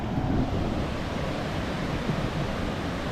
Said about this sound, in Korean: 오늘 파도 센데?